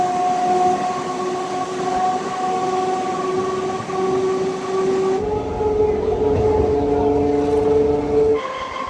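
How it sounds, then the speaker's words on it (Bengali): A Ballygunge–Namkhana local train pulls into a station with a loud, steady rumble and sustained tonal squeals that shift in pitch partway through, all close and continuous. "অ্যানাউন্সমেন্ট হচ্ছে, ট্রেন ঢুকছে 10টা 12 বালিগঞ্জ নামখানা লোকাল।"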